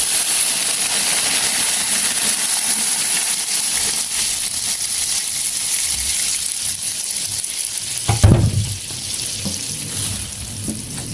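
Blended chili sambal paste fries in hot oil with onions, giving a loud continuous crackling sizzle that briefly swells with a stirring scrape and thump, then settles back into steady frying.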